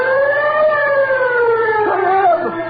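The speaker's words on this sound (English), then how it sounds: "How does the siren sound?" A brand-new fire engine siren in a radio drama wails loud and close in one sustained rising-and-falling tone that wavers near the end, heard alone without voices.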